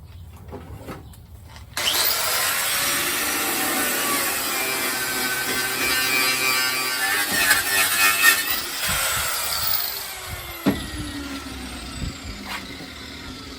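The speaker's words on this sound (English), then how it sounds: "I'm going to clean this off with the wire brush." A steady, harsh scraping rasp runs for about ten seconds as a wire brush scrubs the metal of a Dodge Ram rocker panel up close, then breaks into a few scattered knocks.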